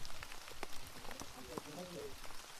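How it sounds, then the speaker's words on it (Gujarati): Rain falls outdoors on a hilltop, a steady close hiss of drops pattering on surfaces, with people speaking over it. "વરસાદ આવે છે."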